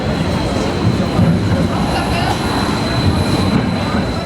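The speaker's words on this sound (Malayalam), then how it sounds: "സിമ്മറിങ്ങിലേക്ക് പോകുന്ന ഒരു ട്രെയിൻ വന്നു നിന്നു" A train pulls into a station in Vienna on a line bound for Simmering, a steady rumbling roar with a thin high whine above it, heard under an echoing station ambience.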